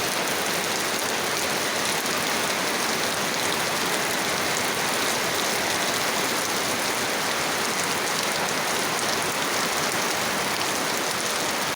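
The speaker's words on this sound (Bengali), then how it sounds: "অনেক বৃষ্টি হচ্ছে অনেক।" Heavy rain pours steadily on a morning during a trip to Bikrampur, a dense, even hiss of falling water and drops on surfaces holding at constant loudness throughout with no voices.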